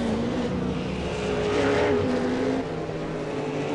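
V8 Supercar race cars lapping Lime Rock during qualifying, a steady loud engine drone with shifting pitch as a car accelerates and passes, sustained throughout without a break.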